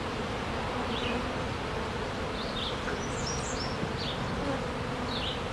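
Honeybees in an opened hive during an inspection keep up a dense, steady buzz throughout, close and even, while short bird chirps ring out faintly in the background.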